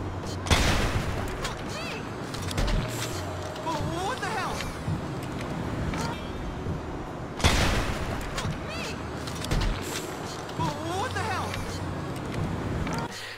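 Precision pistol shots in GTA 5 Online crack out loudly, two sharp shots several seconds apart amid game ambience, with someone talking throughout.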